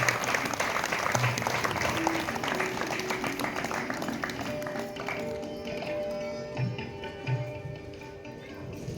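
Sustained applause from a crowd at a Chaitra Gauri haldi-kumkum gathering, dense clapping filling the whole stretch and gradually thinning toward the end.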